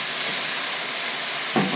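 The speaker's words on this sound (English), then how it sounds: "just dump everything into the pot" Cooked chicken is dumped into a pot of Vietnamese banh canh soup, giving a loud, steady broad hiss of steam with a brief sputtering burst near the end.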